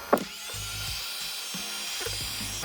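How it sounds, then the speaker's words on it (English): A handheld heat gun shrinking heat-shrink tubing over neon deck-light wire, a steady high motor-and-fan whine with a few faint clicks and knocks in the background. "we take our heat gun and being careful not to get the wire and the neon too hot, we are going to heat up"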